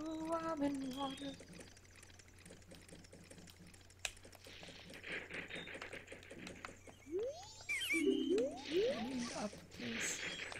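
Water splashes and sloshes in Majora's Mask, set among game music, beeps and other effects, with a voice talking over parts of it.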